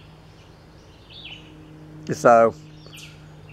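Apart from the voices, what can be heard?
birds singing in the woods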